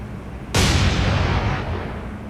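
A naval gun volley firing star shells in the War on the Sea naval combat game, one loud sudden boom followed by a long rumbling decay, heard alone.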